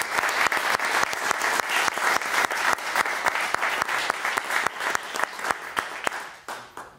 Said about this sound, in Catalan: és el moment de donar-li un fort aplaudiment